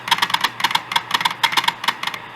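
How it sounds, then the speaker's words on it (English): Uncovered Western Digital Caviar hard drive running loudly, giving off a rapid, irregular series of close, crisp clicks and seeking ticks that continue steadily throughout. "It's ridiculous how loud this drive is."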